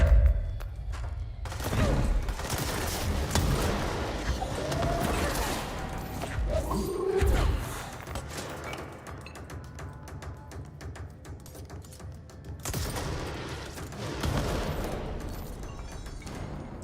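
Gunfire from the service weapon in the video game Control, with repeated heavy blasts and crashing bursts layered over a dense, rumbling game soundscape, loud and close with quieter stretches in between.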